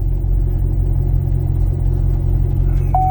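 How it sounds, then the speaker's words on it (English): A Chevrolet SS Camaro with an aftermarket exhaust rumbles at low, steady revs, loud and close, its deep engine drone continuous with slight fluctuations and no talking. "My car has an exhaust, so you can kind of hear what it's doing"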